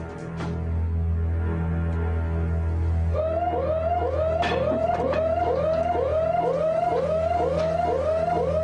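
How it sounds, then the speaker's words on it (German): A bank's alarm wails continuously, joined after a few seconds by a repeating rising electronic siren tone, loud and steady throughout with no voices. "Innerhalb weniger Sekunden geht der Alarm los."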